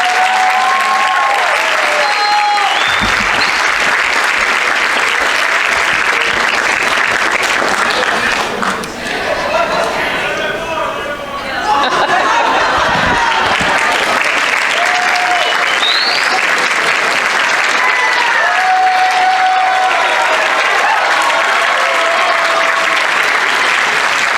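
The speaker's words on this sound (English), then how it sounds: "you guys owe them applause for putting up with you" At a 2022 high school graduation ceremony, an audience fills the hall with loud, sustained applause and cheering that briefly dips midway before surging again, with whistles and scattered shouts rising above the clapping.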